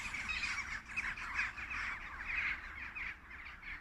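Crows caw continuously in a noisy, overlapping racket outdoors on a misty day, harsh calls repeating steadily at moderate distance with no talking.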